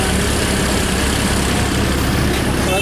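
Idling Lamborghini Aventador with a four-pipe exhaust on the seafront boulevard at Cannes, a steady loud low engine rumble that runs continuously, mixed with street noise.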